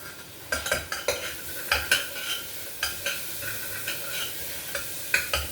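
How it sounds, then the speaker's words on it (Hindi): Cumin and carom seeds sizzle in a hot pan while a spoon scrapes and clinks against it in repeated, irregular strokes, close and fairly loud. "इसमें डालूंगी थोड़ा सा जीरा, अजवाइन इसमें जरूर डालती हूँ"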